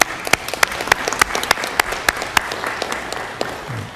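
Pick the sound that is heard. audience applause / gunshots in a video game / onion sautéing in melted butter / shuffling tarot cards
audience applause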